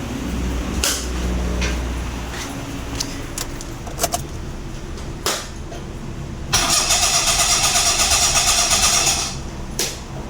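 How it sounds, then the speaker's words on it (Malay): A Perodua Kenari engine cranks but fails to start: repeated starter whirring in several bursts, with one long steady cranking spell near the end, close and fairly loud with no catch. "Memang kita start tak boleh hidup lah"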